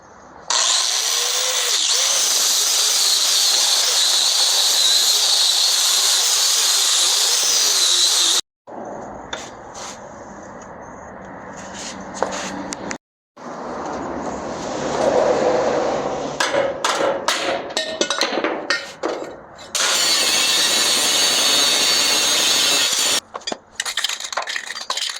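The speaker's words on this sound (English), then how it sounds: "Got us a new grinder. We got a nice flat disc on there. We're gonna grind this crap down from that bump stop." An angle grinder fitted with a flat disc grinds down a bump stop on the frame of a 1936 Ford truck, giving a loud, close, high whine that runs on and off in long bursts with short gaps and rough scraping contact.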